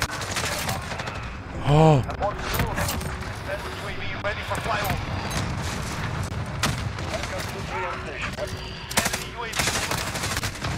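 Bruen MK9 gunfire in a Modern Warfare 2v2 gunfight match, rapid automatic bursts running throughout under excited player chatter, with a few sharper reports standing out.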